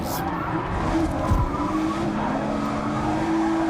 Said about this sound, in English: I can still hear at least one more car in the race.